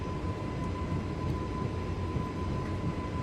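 Full-throttle aircraft engine on takeoff from a small airstrip in Microsoft Flight Simulator, a steady, dense roar with a constant high tone running unbroken and fairly loud throughout.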